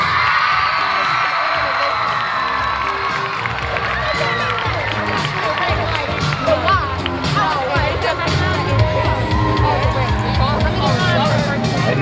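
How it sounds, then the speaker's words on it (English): Crowd at an allstar cheerleading competition cheering and whooping for a tiny cheer team, a loud, sustained roar of shouts and high children's voices with constant excited chatter throughout. "I want to see them stand up and cheer"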